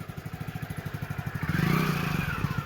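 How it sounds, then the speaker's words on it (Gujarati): An Activa scooter moves slowly nearby, its small engine putting out a steady, rapid low putter that swells briefly in the middle. "એક્ટિવા પિન્ટુભાઈ એક્ટિવા ચલાવે"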